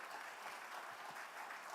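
An audience at a ThinkEdu 2024 education event in a hotel hall claps, a thin, faint, continuous patter of applause from a crowd, fairly low in energy and steady throughout.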